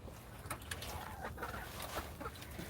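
A backyard chicken coop in the morning, with faint clucks and short bird calls scattered over steady low background noise, fairly distant, with no talk.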